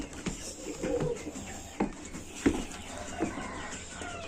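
Pigeons cooing inside a coop, soft low murmuring calls with a few sharper knocks and rustles, heard without speech over a faint background hiss.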